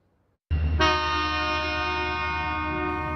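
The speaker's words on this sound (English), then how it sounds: "As the train rumbles past 4th and Evans" A train sounds a loud sustained horn chord while passing through a downtown street crossing at 4th and Evans, the blast starting suddenly after a quiet moment and holding steady over a low rumble.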